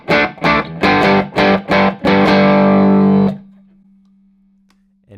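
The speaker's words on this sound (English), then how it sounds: "So what we'll look at first is buffer before the overdrive pedal" Electric guitar driven through a buffer placed before a JHS Moonshine overdrive pedal: six quick loud chord stabs, then a long sustained chord that cuts off into a steady low amp hum.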